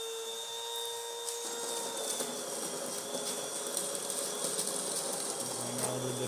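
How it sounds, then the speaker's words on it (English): A DeLonghi Eletta espresso machine pulls an espresso shot after a full service, giving a steady mechanical hum and whir with a faint high tone and light rattles, close and continuous throughout. "Let's try Espresso shot."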